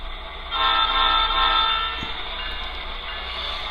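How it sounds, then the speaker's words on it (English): Tsunami2 sound decoder in a model train sounds a steady high-pitched brake squeal with a low rumble underneath, swelling briefly then holding at a moderate level, no talking. "brakes are all you're hearing. So you're hearing the squealing coming from here."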